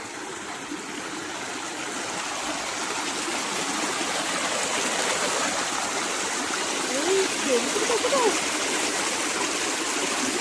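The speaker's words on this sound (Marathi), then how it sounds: "मी दाखवते डोंगराचं पाणी कसं आलंय ते इकडं खाली." Mountain runoff from a village hillside flows down in a stream, a steady broadband rush of water with faint splashes, continuous and fairly close throughout.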